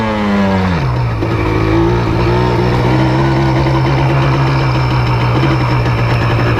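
Yamaha Blaster quad's small engine revs up and then holds a steady, buzzing drone, loud and close throughout.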